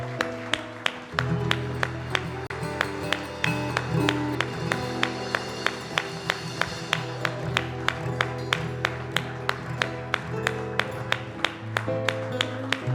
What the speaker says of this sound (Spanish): ¿Cuántos pueden darle un aplauso al Señor en esta noche?